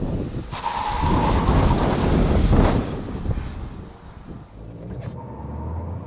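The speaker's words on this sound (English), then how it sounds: "Got a bit of wheel slip off the line." Mahindra XUV 3XO launching hard with wheel slip, a rising engine roar smothered in heavy wind rumble, loud and close from inside, then easing off as the run settles.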